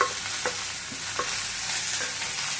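Green chilies and curry leaves sauté in a pan for coconut chutney, crackling in a steady near sizzle marked by a few spatula taps, with no speech.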